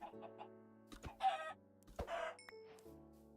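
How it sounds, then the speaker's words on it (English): A chicken in Minecraft clucks in short bursts, a few soft clucks followed by louder squawking calls, close up and clear with no talking. "You're a weird-looking chicken."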